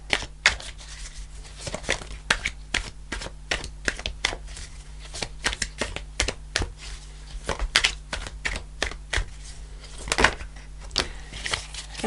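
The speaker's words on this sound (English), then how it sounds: "I shuffle the cards really because the idea is it connects with your energy" Tarot cards are shuffled by hand in a quiet room, giving a long series of sharp, crisp riffles and flicks in an irregular rhythm, close and clear with no talking.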